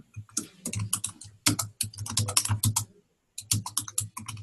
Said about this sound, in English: Somebody typing needs to mute.